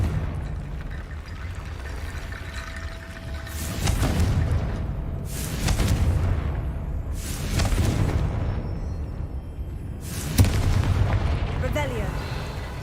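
Confringo fire spells go off in Hogwarts Legacy as four booming blasts, a few seconds apart, over a steady layer of game ambience and music.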